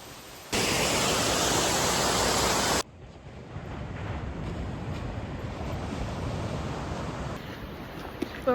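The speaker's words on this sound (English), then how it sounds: "Just climbing up a waterfall." A New Zealand waterfall roars as a loud, steady broadband rush, briefly stronger at first, then a continuous nearer wash of falling water with wind buffeting the microphone.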